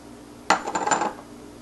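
A spoon mixing rava idli batter in a bowl, producing one short burst of rapid scraping and clinking strokes, close and clear, lasting about half a second amid quiet.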